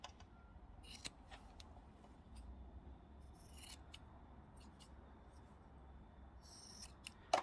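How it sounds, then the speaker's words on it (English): Scissors snip the corners and loose threads of a scrap-fabric tissue pouch, with several sharp, separate cuts over a quiet, faint background. "trim the corners just as we did before, and we'll chop off the threads as well"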